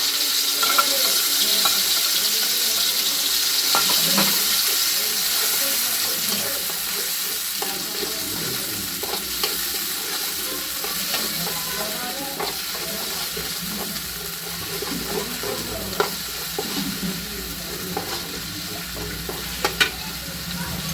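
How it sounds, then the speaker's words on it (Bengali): Poppy seeds and chopped onion fry in a little oil in a wok, with a steady close sizzle throughout. Occasional stirring clicks and scrapes sound over the sizzle. "এবার আমি পোস্ত আর পেঁয়াজ দিয়ে এটাকে আমি ভেজে নিচ্ছি"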